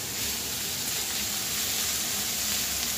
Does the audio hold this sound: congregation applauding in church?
no